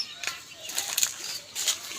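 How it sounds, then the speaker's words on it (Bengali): Pigeon flapping its wings close by in a few quick fluttering bursts, a trained hunting pigeon handled at close range. "আজকে কবুতর নিয়ে আসলাম।"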